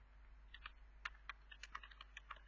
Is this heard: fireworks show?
no